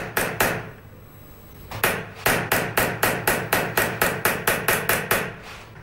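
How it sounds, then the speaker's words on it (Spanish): A hammer drives a blunt punch into a metal sheet for repoussé relief work, sharp ringing blows struck close by: two, a pause, then a steady run of about fifteen evenly spaced strikes. "Trabajando la cara interna con una punta roma y un martillo, se sacan los relieves de la pieza."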